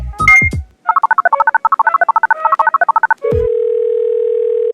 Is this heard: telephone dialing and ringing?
yes